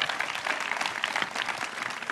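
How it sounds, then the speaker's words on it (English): Audience applause for graduating high school students, a dense crackle of many hands clapping together, steady and moderately loud for the whole stretch. "So give yourself a round of applause."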